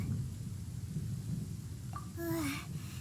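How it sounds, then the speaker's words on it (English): A thunderstorm rumbles steadily in the video game Genshin Impact. The low rolling noise continues throughout, and a brief tonal sweep rises over it near the end. "This is not the time for a thunderstorm, bro."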